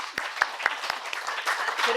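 A brief burst of audience clapping at a talk event, moderately loud, with a few sharper individual claps standing out over a murmur of voices.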